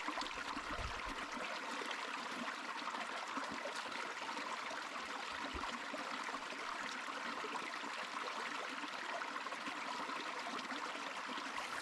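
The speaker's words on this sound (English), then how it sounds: "Look at this beautiful stream for us to get water from." A mountain stream on a New Zealand hiking trail flows in a steady, soft, broadband rush with faint trickling texture and a few low bumps near the start, quiet and even for about twelve seconds, no speech.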